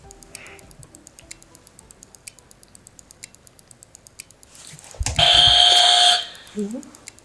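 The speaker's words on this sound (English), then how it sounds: "Sacred's girls have hit the buzzer." A quiz buzzer sounds at a televised faith quiz match between school teams, a loud sustained electronic tone lasting about a second after steady ticking background noise, with a brief lower sound trailing off afterward.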